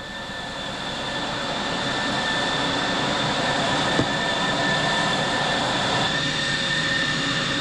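An F-111E jet engine running on the ground at RAF Upper Heyford, UK, with a steady loud roar and high whine holding throughout, building slightly early on, plus a single brief click near the middle.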